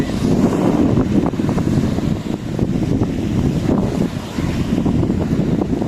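Heavy wind buffets the microphone on the coast at Ganpatipule, a loud continuous low rumble with gusty swells and no voices.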